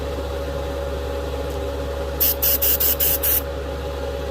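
A Paasche H single action airbrush sprays paint in six quick hissing bursts close to the microphone, evenly spaced, over a steady low compressor hum that runs throughout.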